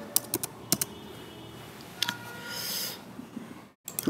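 Keys clatter on a computer keyboard in scattered quick clicks and short bursts, close and fairly quiet, with a soft breathy swell partway through and a brief pause near the end.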